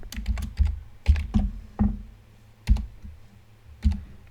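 Separate keystrokes and small clusters of taps land on a computer keyboard as text is typed into VB.Net code, each click crisp and close in an otherwise quiet room.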